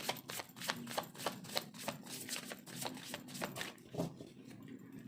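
Rapid crisp riffling of tarot cards being shuffled, a steady run of soft flicking snaps close by, pausing briefly near the end.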